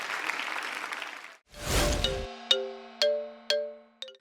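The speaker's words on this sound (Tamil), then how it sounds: "ஸோ ஒரு பெரிய கைத்தட்டலோட வெல்கம் பண்ணலாம் திவ்யா" Studio audience applause greeting guests on a Tamil TV game show, a short burst of clapping that fades into a bright ringing chime and several ding tones.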